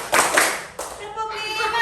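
Children in a classroom doing a counting clap game, with a couple of sharp group claps near the start amid children's voices and a teacher chanting.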